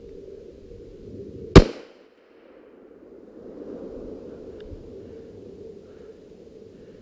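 A single sharp gunshot fired at a deer while hunting, loud and close, with a brief echo decaying into steady outdoor background noise.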